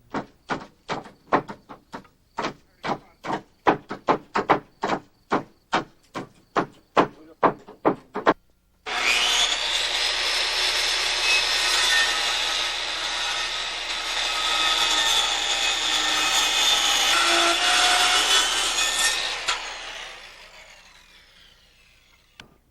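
A saw cuts a compound miter in a framing board: a series of rhythmic back-and-forth hand-saw strokes, then a sustained loud power-saw whine that fades out at the end.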